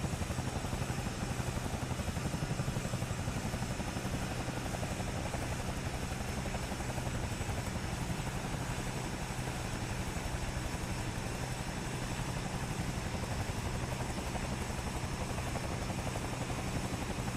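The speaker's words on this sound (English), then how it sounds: "Yeah, the sound on this thing is really good. I mean, it's a really fun helicopter." The Cowan Sim CS222B Airwolf helicopter drones steadily in a flight simulator game, its engine and rotors giving a loud, unbroken roar that carries on without pause and with no voices.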